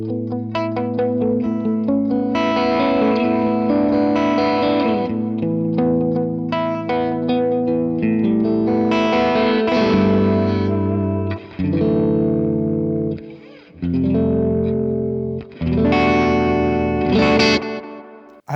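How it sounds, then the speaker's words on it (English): An electric guitar played through a pedalboard set to a longer delay, with chords and lead notes trailing off in echoes and some distortion and chorus, loud and close with no talking. "And then on my B setting, there's a bit of a longer delay."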